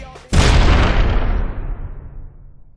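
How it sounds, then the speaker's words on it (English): Fireworks burst after a touchdown in the NFL Tour football video game: a single loud, sudden boom that rings out and fades slowly over about two seconds, with no talk. "the fireworks that go off after a touchdown are a nice little touch"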